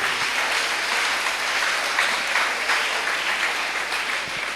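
A church congregation applauding during a farewell service, a steady, dense wash of clapping from many hands that holds at an even loud level throughout without pause.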